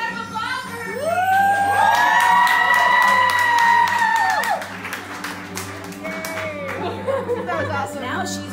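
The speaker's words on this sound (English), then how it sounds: "Can I get a round of applause for her?" A crowd cheers and applauds for Allie's 22nd birthday, loud and sustained with whoops and high shouted voices over it, then fading into scattered chatter and laughter.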